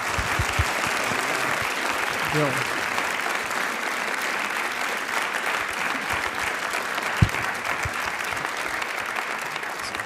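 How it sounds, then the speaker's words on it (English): Audience applause for the speakers Bill Browder and Vladimir Kara-Murza at a conversation and recital event, a continuous even roar of clapping with a single brief spoken word and one sharp knock partway through. "Another round of applause."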